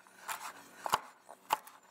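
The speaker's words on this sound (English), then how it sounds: "So the first thing you want to do is chop up your pecans finely." A knife chops pecans on a cutting board, two sharp close knocks among softer scraping cuts, faint and brief.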